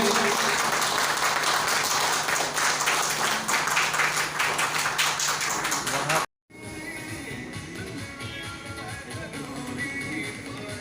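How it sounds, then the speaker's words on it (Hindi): Audience applause fills a hall at a journalists' national conference in a hotel in Kashi, loud dense clapping for about six seconds, then a cut to quieter room sound with softer scattered claps. "कृपया तालियों की गड़गड़ाहट"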